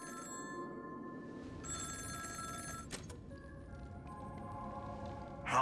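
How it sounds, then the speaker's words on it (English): A telephone ringing in the video game Honkai: Star Rail, set in Penacony, an electronic bell-like ring sounding in steady bursts over quiet background music, fairly soft, with a louder click at the end. "Answer the phone!"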